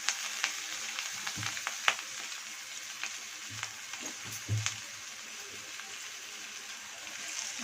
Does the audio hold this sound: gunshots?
no